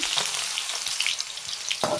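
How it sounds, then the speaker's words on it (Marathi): Steady, close sizzling of cumin and onion frying in hot oil, with a few soft clinks of stirring breaking through the crackle. "तेल गरम झालेलं आहे, आता आपण जिरं टाकून घेऊया, त्यानंतर कांदा टाकून घ्यायचा आहे फोडणीसाठी"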